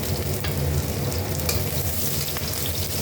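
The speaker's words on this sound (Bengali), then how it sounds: "রসুনটা একটু সামান্য ভেজে নেব" Garlic cloves frying in hot mustard oil with dried red chillies in a pan, a dense steady sizzle and crackle close up, continuous with no voices.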